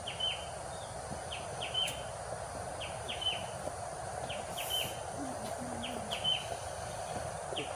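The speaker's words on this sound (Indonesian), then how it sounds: "sambil dengerin suara hewan-hewan yang ada di hutan ini ya, kayak burung, apa itu, jangkrik, dan tonggeret." Forest ambience on a hiking trail near Bogor, Indonesia, with repeated short bird chirps over a steady dense insect drone of crickets and cicadas, moderately faint and with no talk.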